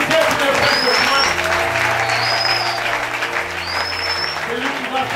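Congregation in a French-speaking Branham tabernacle church applauding at a Sunday school service. Loud, dense clapping runs throughout with voices and a few high, whistle-like chirps on top.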